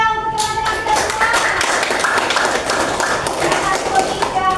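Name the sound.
class applauding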